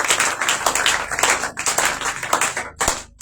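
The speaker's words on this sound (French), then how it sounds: "Est-ce qu'on peut acclamer encore une fois pour eux?" An audience claps in applause for two arriving brothers at a religious commemoration service. The clapping is dense and sustained, with scattered louder claps, and it fades near the end.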